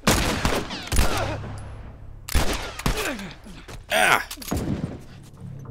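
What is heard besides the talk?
gunfire in video game The Last of Us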